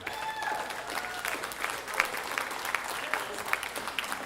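A crowd at a talent show finals, Schuylkill's Got Talent 2016, applauds a contestant with steady, dense clapping that carries on throughout at an even level.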